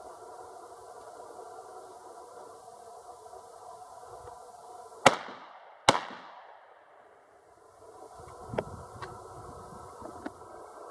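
Two sharp, loud blasts from a Stevens Model 311 16 gauge side-by-side shotgun ring out close together at a paint can, each with a quick echoing tail, over a low steady background hum.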